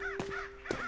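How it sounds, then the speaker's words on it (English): Crow in the Roblox horror game Cursed Grounds, on a farm near a barn, gives two clear, harsh caws about half a second apart over a faint steady ambient tone. "there's a crow sound, Ari."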